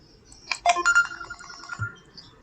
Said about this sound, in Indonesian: Tunggu Bapak Ibu, ada telepon.